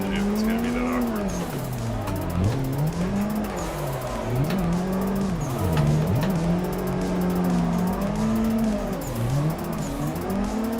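Drift cars at a drifting event, engines revving up and down in continuous wavering swells, with tire squeal layered over the steady close motor roar.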